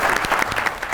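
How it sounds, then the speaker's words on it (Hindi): Audience clapping at a live comedy stage show, a brief, dense burst of applause from a crowd, steady and fairly loud throughout. "ताली बजाइए।"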